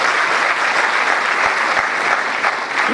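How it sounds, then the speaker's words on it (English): Loud, dense applause from a large audience at an inaugural ceremony, continuous clapping filling the whole three seconds with no voices. "Round of applause for them."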